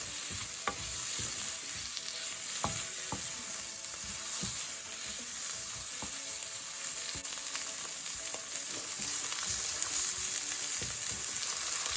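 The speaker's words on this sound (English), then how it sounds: "I'm going to put my seasoned jerk prawns in here. So I'm just going to toss them around in here and allow them to cook." Seasoned jerk prawns frying in a pan, a continuous close sizzle punctuated by repeated scraping and tossing knocks as they are stirred around; no voices.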